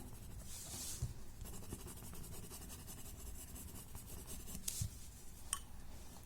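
Graphite pencil shades across paper at close range, a faint soft scratching and rubbing with a few sharper strokes and taps.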